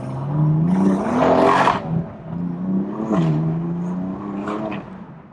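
A BMW M4 engine revving hard with traction control off, a loud, close growl that climbs, drops and rises again in several throttle blips with rising and falling pitch, no voices over it.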